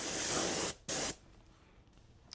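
A spray can lays a gray backing coat onto a Kyosho Beetle RC car body, giving two close, steady hissing bursts, a longer one and then a short one, before a quiet room.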